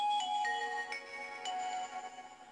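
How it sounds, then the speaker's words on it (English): Nokia E72 mobile phone playing its ringtone, a loud melodic electronic tune of sustained tones with shifting pitches, close and clear with no voices. "it is quite a loud ringtone on there"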